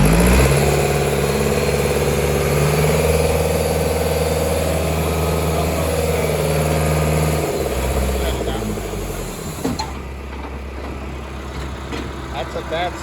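A Clark C500 wheel loader weighing 26,000 pounds idles with a loud, steady diesel rumble that shifts tone partway through.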